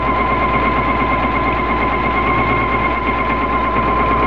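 A sewing machine stitches steadily around a fabric mask, a constant close mechanical whir with a fast even rhythm running without pause and no talk over it.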